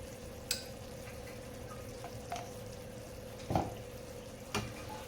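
Katla fish kalia cooking in a pan with a little ghee gives a low, steady sizzle, broken by a few soft clicks and stirring knocks, with no talking.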